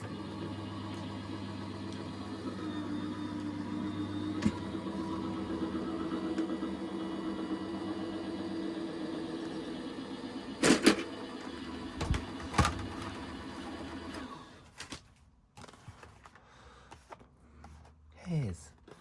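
Manual die cutting machine cranking a Christmas tag craft die through in a plate sandwich, a steady low grinding rumble with sharp clicks and clunks near the end, under a voice talking.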